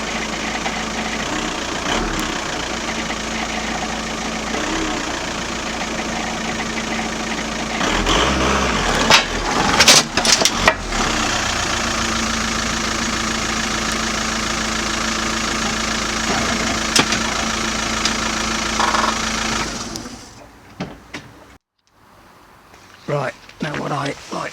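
A VW Golf Mk5 with a 1.9 TDI diesel engine idles nearby with a steady, knocking clatter that continues for about twenty seconds before cutting out, followed by brief thuds and quieter noise.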